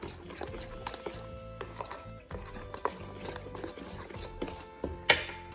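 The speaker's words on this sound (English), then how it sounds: "And we're going to stir that in." A spoon scrapes and clinks against a mixing bowl as melted butter is stirred into cornbread batter, irregular rubbing strokes with occasional sharper taps, close and alone.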